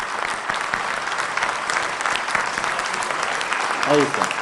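Strong, steady applause from an audience welcoming a chest medicine professor to the stage at a formal event, continuous clapping filling the whole stretch, with a brief voice near the end.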